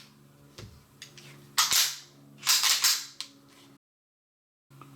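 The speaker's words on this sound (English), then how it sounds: "So if you're going to decock this pistol" A SIG Sauer P226 Legion pistol is handled and decocked with its lever, giving a few sharp metallic clicks and snaps close up, with a brief silent gap near the end and no talking.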